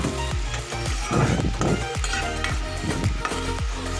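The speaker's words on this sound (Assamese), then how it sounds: "এইখিনি ধুনীয়াকৈ লৰাই থাকিব" Onions and chillies frying in oil, stirred with a spoon that scrapes and clinks against the pan in a regular rhythm over a steady sizzle, with no talk.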